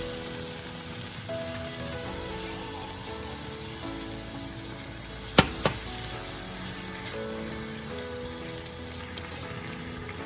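Sauce sizzles in a hot pan of Thai basil chicken with softened tomato, a steady, even hiss broken by a couple of sharp clicks partway through, no one speaking.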